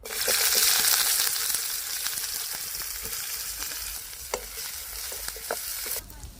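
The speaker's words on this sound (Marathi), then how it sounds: "चुलीवरती कढई सगळ्यात अगोदर आपल्याला मध्ये थोडस तेल टाकून कांदा भाजून घ्यायचा आहे" Onion frying in a little oil in a wok over a wood-fired stove, a steady close sizzle with scattered stirring clicks and scrapes throughout.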